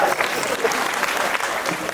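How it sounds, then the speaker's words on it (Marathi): An audience claps steadily and densely throughout at a Marathi kirtan in Ghoti, Nashik, a continuous wash of applause from a gathered crowd with no pauses. "टाळ्या वाजवा महाराजांसाठी आता."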